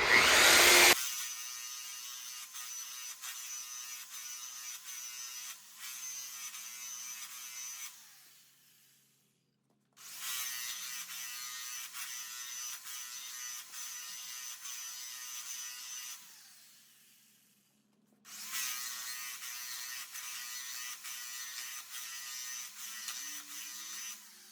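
A power sander works a car wheel at about 2,600 RPM, giving a steady high whirring drone in three long passes separated by brief pauses, close and moderately loud.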